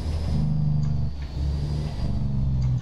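A Peterbilt truck engine in American Truck Simulator drones and surges in rhythmic low pulses as the truck slows under braking, loud and close with no talk.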